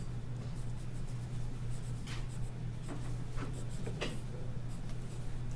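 A pencil drawing rectangles on a worksheet, with close, scratchy strokes in short bursts over a faint steady hum.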